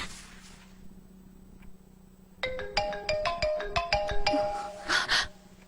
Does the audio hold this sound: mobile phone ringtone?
yes